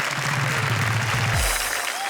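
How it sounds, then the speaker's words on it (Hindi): An audience at a Hindi poetry show applauds to welcome a guest poet, a dense burst of clapping that swells briefly and fades within a couple of seconds. "हम जोरदार तालियों से स्वागत करें।"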